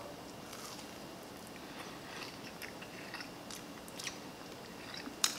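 Quiet close-up chewing and soft crunching of a peanut butter Rice Krispie treat, with scattered bites and one sharper crunch near the end, no talking.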